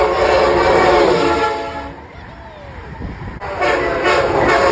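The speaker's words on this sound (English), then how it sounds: "And don't forget that loud K5 air horn" A loud, sustained multi-tone K5 air horn on an HHP-8 locomotive blares close by, cuts out briefly, then sounds again over rumbling rail noise.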